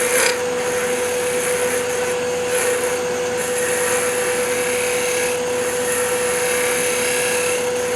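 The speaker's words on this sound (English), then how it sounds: "Heard a little chatter because the wood started moving." Wood lathe tool working a thin piece of wood, a steady close scraping rasp with slight chatter throughout, loud and continuous with no talking.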